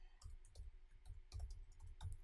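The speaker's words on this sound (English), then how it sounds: "I could activate it, and then I could start typing." Quiet, close keystrokes on a computer keyboard come in irregular light clicks and short bursts of typing, with nothing else heard alongside them.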